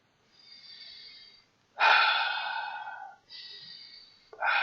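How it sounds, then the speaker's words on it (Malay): Slow, deep breaths in and out, each long airy rush clearly audible, with short pauses between them and no talking. "Tarik nafas panjang, tarik nafas dalam 6 kali."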